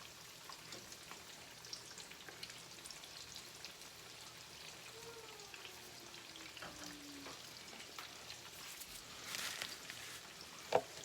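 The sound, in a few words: chicken cutlets frying in a pan for chicken parmesan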